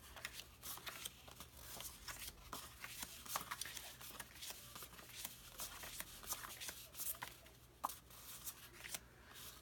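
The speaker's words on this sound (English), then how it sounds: "I'm just going through the little cards here that I cut apart." Small hand-cut paper cards for a travel journal album being sorted and shuffled, a steady soft patter of flicks and rustles close by, fairly quiet and without speech.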